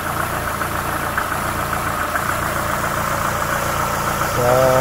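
A car engine idles steadily with a smooth, continuous low hum after an idle RPM fluctuation fix, close by, rising slightly in level near the end.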